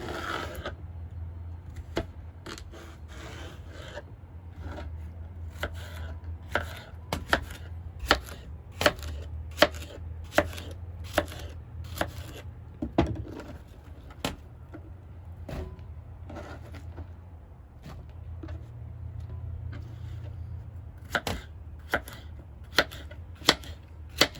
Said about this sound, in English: this one is a bigger zucchini, so I cut each half into 3 pieces